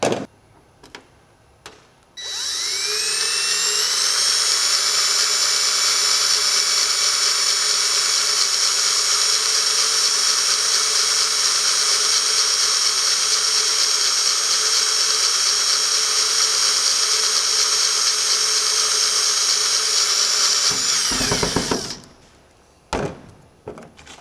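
Pneumatic drill boring out rivets on an airplane under restoration, a sustained high-pitched whine that runs steadily for about twenty seconds after a few clicks, then stops abruptly with a brief clatter.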